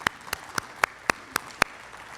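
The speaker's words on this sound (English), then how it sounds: "Let's give him a round of applause." Audience applause at a rail corridor meeting, heard as seven sharp, evenly spaced claps standing out over a faint background of scattered clapping.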